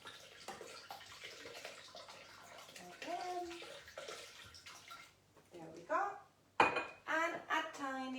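Water, 600 grams weighed on a scale, pours into a bowl with a gurgling splash for porridge, alongside clinks of dishes and bursts of nearby talking.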